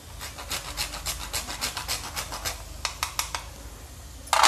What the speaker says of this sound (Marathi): आता ह्याच्यात थोडंसं जायफळ टाकते किसून.